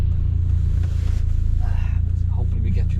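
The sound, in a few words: Ford Sierra RS Cosworth engine while driving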